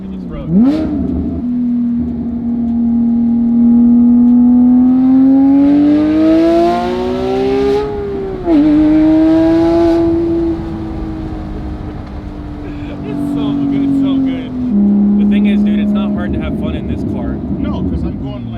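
A high-performance car drives a backroad, its engine droning steadily and rising and falling as it accelerates and shifts, with a 600-horsepower Audi R8 and a Porsche 997.2 GT3 RS on the road; talk continues over the engine.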